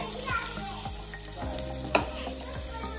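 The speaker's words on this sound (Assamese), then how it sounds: "ধুনীয়াকৈ এইখিনি লৰাই দিব" Assamese sour fish curry made with chengeri tenga is stirred in a sizzling pan, a continuous frying hiss with repeated scraping strokes of the spoon and one sharp metallic clink.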